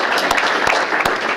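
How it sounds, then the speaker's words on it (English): Short burst of audience applause at a mayor's awards ceremony, dense and steady clapping with a few sharper claps standing out, close and fairly loud throughout. "Let's have a round of applause."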